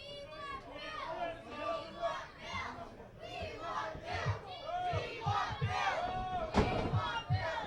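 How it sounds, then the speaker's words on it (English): A crowd at a pro wrestling event chants a repeated rhythmic phrase in unison, loud and sustained, with the voices rising and falling in waves, scattered shouts and a few thuds from the ring beneath. "Listen to the crowd chanting, "We want Bill.""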